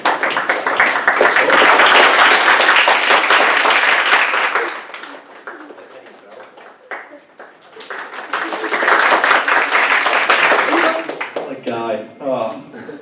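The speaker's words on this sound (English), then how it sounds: "let's get some clapping going" A stand-up comedy audience claps loudly in a sustained burst, dips into quieter scattered claps with a voice, then swells into a second round before a speaker talks again.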